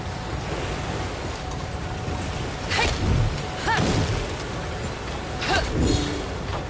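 Video game waves washing against docks along a bay, a steady roar of surf and wind that swells periodically, with faint brief vocal-like cries above it.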